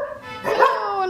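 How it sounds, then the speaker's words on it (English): A small Russian dog gives a short bark and whimpering yelp, close and fairly loud, in a quiet room beside a piano. "a little Russian dog barking"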